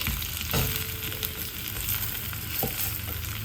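Potato pieces fry in hot oil in a pan for a Marathi-style potato bhaji, a steady loud sizzle with occasional stirring scrapes and clinks over the crackle.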